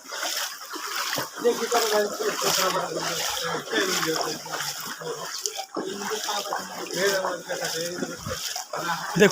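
Strong floodwater rushes and splashes steadily through a flooded village in Feni, a continuous churning wash heard close by while someone talks over it.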